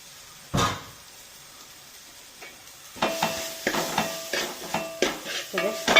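Pepper and gooseberry pickle being stirred in a pan, a spoon scraping and clinking against the metal in a quick irregular run of taps, close and fairly loud, after one earlier thump and a quiet pause.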